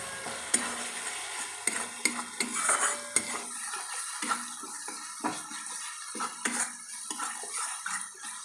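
Ingredients for a South Indian style fish curry fry in a pan, a soft sizzle broken by repeated scrapes and clinks of a spatula stirring against the metal, close by and without talk.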